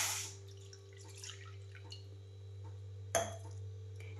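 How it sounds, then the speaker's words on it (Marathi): Water from a glass is poured into an iron wok sitting on a gas stove, giving a brief splash at the start, scattered drips, and a second sharper splash near the end over a low steady hum. "आणि मी आता एक ग्लासभर पाणी ओतायला लागली आहे."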